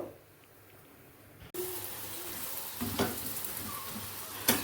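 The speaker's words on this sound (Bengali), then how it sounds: "আমি এখন এই যে আলু পরোটা ভাজা শুরু করব" An aloo paratha, a potato-stuffed flatbread, hits a hot pan and starts a steady close sizzle after a short quiet spell, with a few light stirring or scraping clicks.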